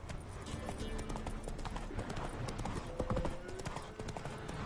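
Roach, a horse in The Witcher 3, gallops with a steady, close clip-clop of hooves running throughout, over a dense bed of game ambience, with a brief louder burst near the end.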